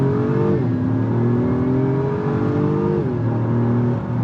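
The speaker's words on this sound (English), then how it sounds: "give it an acceleration up here, put it in sport transmission," An Acura MDX Type S in sport transmission mode accelerates hard, its engine drone climbing steadily with two brief pitch drops at gear shifts, loud and continuous from inside the cabin.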